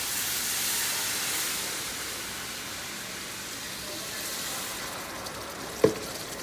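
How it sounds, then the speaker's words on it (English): Mexican rice in a pot with diced tomatoes, two cans of tomato sauce and water, bubbling at the sides with a steady soft hiss and sizzle, plus one brief clink near the end. "Just kind of boiling on the sides there."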